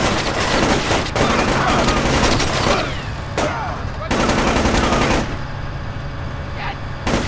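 Rapid bursts of automatic gunfire in Splinter Cell Chaos Theory, loud dense volleys broken by short pauses, with shouted voices mixed in among the shots.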